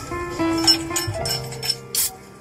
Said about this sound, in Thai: เสียงเปิดขวด